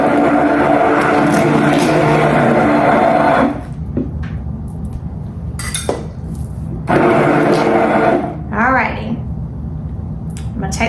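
An electric mixer whirs loudly and continuously, beating oatmeal pie filling, then stops abruptly, leaving quieter stretches broken by clinks and knocks before it briefly starts up again.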